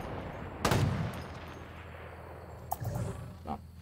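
Gunfire in Halo Infinite crackles from a distance, with a louder burst early, a quieter stretch of faint shots, then another burst and a few scattered pops.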